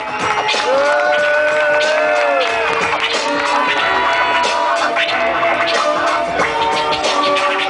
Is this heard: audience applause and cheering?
yes